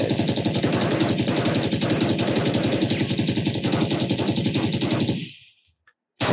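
Sustained full-auto fire from the Phantom rifle in Valorant, a loud, rapid, evenly spaced burst lasting about five seconds before cutting off abruptly.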